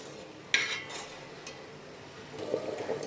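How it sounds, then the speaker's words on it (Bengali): Soaked rice being stirred gently in boiling water in a pot: a sharp utensil clink against the pot, a few soft knocks, then faint bubbling and stirring liquid. "চালটা দিয়ে দেওয়ার পরে এটাকে হালকা হাতে একটু নেড়ে দেব।"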